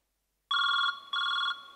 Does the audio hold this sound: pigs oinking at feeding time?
no